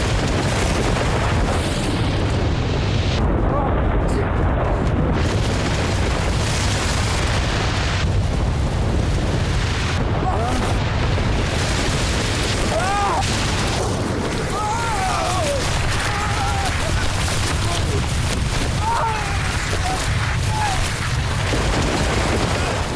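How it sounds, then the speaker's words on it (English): An avalanche on an Alaskan mountain: a deep, continuous roaring rumble fills the whole stretch, heavy and unbroken, with faint higher cracks and whines surfacing now and then. "There's a sickening, cracking rumble, explosions, boom."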